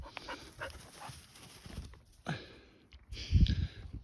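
A dog in an autumn apple orchard pants in quick, soft, close breaths, with rustling movement and footsteps on grass and a louder burst of breathing near the end.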